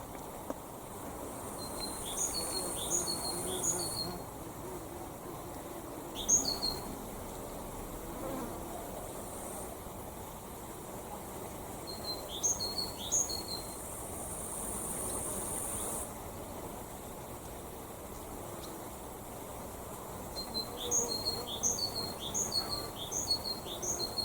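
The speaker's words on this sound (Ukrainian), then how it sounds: "слухайте, пташечка співає" Brief high chirping bird calls repeat in short bursts over a steady buzz of insects in a Ukrainian village, moderately distant, with quiet gaps between phrases.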